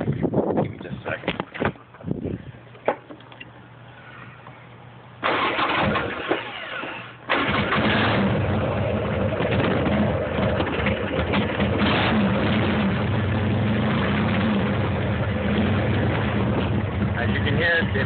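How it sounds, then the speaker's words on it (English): A carbureted motorcycle engine cranks a few times, catches and then settles into a loud, steady running note close by, with a quieter stretch of cranking before it fires. "I'll go ahead and start it up so you can hear it running."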